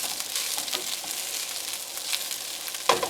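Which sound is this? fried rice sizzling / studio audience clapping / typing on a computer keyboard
fried rice sizzling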